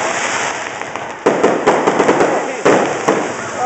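A balloon bursting at a lively stage show, with a couple of sharp, loud pops among smaller crackling bangs, while people shout and talk excitedly throughout.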